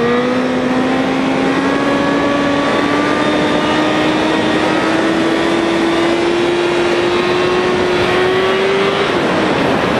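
A motorcycle engine revving hard and loud during a wheelie while passing a 250, with a steady, slowly rising drone held close and continuous, under heavy wind rush.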